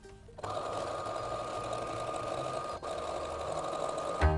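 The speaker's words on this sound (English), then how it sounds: "we're going to sew all the way down there" A sewing machine runs steadily, stitching a seam along a fabric edge while making a walker bag; the motor hum starts abruptly, holds an even drone for about four seconds, then stops with a soft thud.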